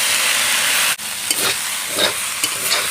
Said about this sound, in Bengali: সেই জলটা আমি নেড়ে চেড়ে শুকনো করে নেব